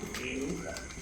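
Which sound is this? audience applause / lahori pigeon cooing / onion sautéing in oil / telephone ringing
lahori pigeon cooing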